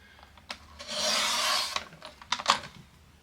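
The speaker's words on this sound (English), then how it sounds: "I'm going to bring in my handy dandy trimmer. And I just want to trim off just the tiniest little edge." A handheld paper trimmer slices a thin strip off the edge of a greeting card panel, giving a close, quiet rasping glide of about a second followed by a few soft clicks and taps.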